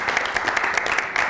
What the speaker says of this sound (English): everyone will go wild with applause